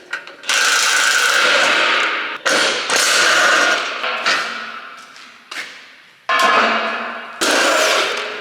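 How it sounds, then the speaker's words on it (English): A 3/4 inch impact wrench working on a farm planter, firing in several loud bursts of rapid hammering with short pauses between them. "Good thing I got the 3/4 inch impact for these."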